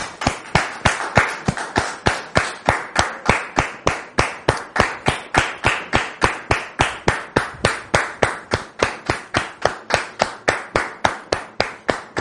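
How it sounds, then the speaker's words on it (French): A French television studio audience claps in strict unison to welcome a guest onto the set, producing a rapid, perfectly even beat of sharp claps, about four per second, for twelve seconds. "on le reçoit maintenant sous vos applaudissements"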